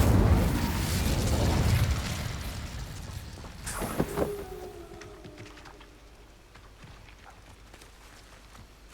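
Incendio fire spell cast in the video game Hogwarts Legacy: a roaring, crackling burst that swells over the first seconds, then sharp pops and a brief whooshing blast near the middle before fading into quieter rumble.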